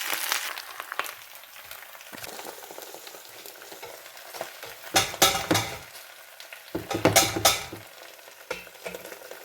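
Uncut spinach greens are tossed into a hot frying pan and stirred, giving a steady sizzle with scraping stir strokes and two louder bursts of crackling partway through.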